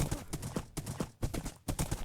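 Horse hooves clip-clopping in Minecraft, a quick, regular series of hoof clops close up, steady trotting rhythm with short gaps, heard alone.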